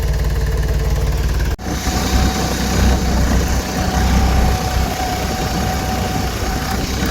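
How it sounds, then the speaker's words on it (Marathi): A tractor engine idles steadily nearby, a loud continuous low rumble with a brief dropout partway through, and no talk over it. "आणि आपण ट्रॅक्टर सुरू करून ठेवलं आहे 2 मिनटं."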